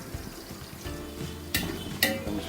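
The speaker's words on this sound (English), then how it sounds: "starts to splutter, add the onions to it. Sliced onion." Sliced onions fry in spluttering hot oil for a home-style mutton biryani, a steady close sizzle with a few sharper bursts as they are stirred.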